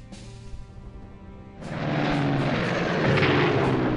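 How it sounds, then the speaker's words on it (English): Aircraft engine drone from a plane attacked by interceptors in the Strategic Command war game, a steady hum that suddenly swells into a loud, dense roar of gunfire and engine noise halfway through. "Watch this plane get murdered."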